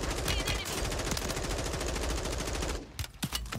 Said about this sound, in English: Of course, I'm getting sniped.